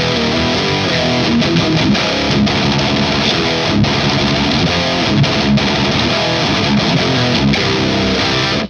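An electric guitar through a heavy distortion pedal plays thick, saturated chords and riffs, loud and continuous with a gritty, compressed tone and no voices.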